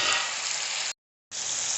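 Chopped tomatoes sizzle and fry hard in a hot pan for Tamil village chicken curry, a dense close crackle that cuts out briefly and then resumes.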